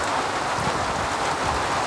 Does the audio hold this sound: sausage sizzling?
no